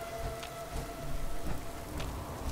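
Steady rain falling in Fallout 4, a dense even hiss of drops on surfaces with faint distant rumbling underneath, no voices.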